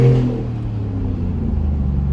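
A 2018 Chevrolet Silverado with its muffler deleted pulls hard at full throttle, its loud, close engine roar sustained and steady as it winds up toward about 4,500 RPM, with no voices over it.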